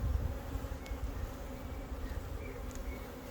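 A colony of honeybees in a hive being inspected for swarm cells hums with a steady, dense buzz close by, a low drone under occasional brief higher whines of single bees flying past.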